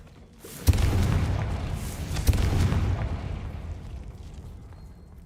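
Confringo blast spell in the wizarding game Hogwarts Legacy: two sharp explosive bangs about a second and a half apart, each followed by a loud rumbling roar that slowly fades.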